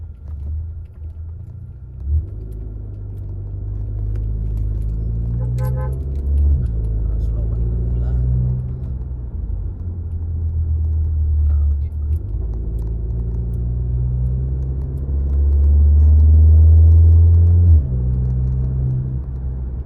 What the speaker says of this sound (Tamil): எக்ஸாஸ்ட் நோட்டு உள்ளே கேட்கறதுக்கு அப்படியே மைல்டாக இருக்குது